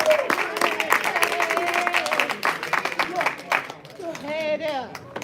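Crowd at a dinner event clapping and cheering as a guest is welcomed to the stage, a lively burst of applause mixed with whoops, loud talking and a singing voice near the end.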